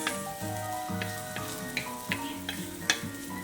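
Onions frying in a pan, a steady close sizzle with light intermittent clicks and taps from stirring, no voices.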